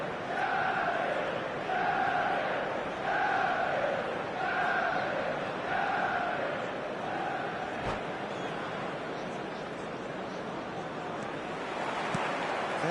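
Stadium crowd in a football video game, a broad roaring wash with a rhythmic chant repeating in pulses early on, then settling into steady crowd noise.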